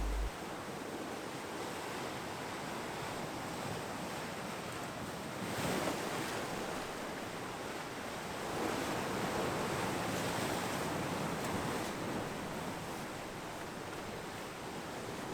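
Sea waves wash over rocks on the Madeira coast as dusk falls, a steady broadband roar with soft swells building and easing, mixed with wind buffeting the microphone and no voices.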